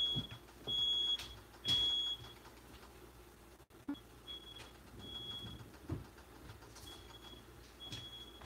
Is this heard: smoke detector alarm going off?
yes